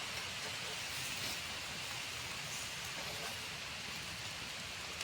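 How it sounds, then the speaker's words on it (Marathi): Rain falls steadily outdoors in a Konkan village setting, an even dense hiss with no pauses, fairly loud and close throughout. "पावसानं सगळा गोंधळ केला"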